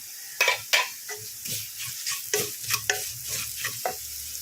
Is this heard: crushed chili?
yes